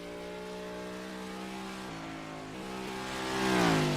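Stock race car engine in Carvana Cup qualifying, one car at speed down the back straightaway toward turn 3, a sustained close engine roar whose pitch dips twice as it shifts and then swells louder at the end.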